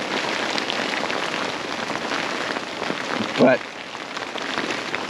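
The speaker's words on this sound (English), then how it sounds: "I'm sitting here trying to enjoy the rain" Steady rain falls outdoors during a thunderstorm and makes a dense, even hiss. A single spoken word cuts briefly through it near the end.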